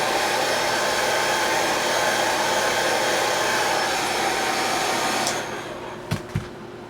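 Hair dryer blowing steadily to dry paint on a scale model, a loud continuous close whoosh that winds down near the end, followed by a couple of small knocks.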